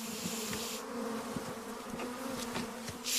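A mass of honeybees drones in a close, continuous buzz while beekeepers spray them with cold water from hoses, a steady hiss running over the hum.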